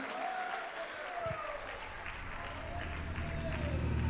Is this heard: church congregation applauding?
yes